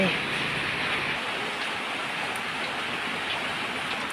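Dense, steady rain hiss pattering evenly on foliage, a continuous wash of sound with no pauses.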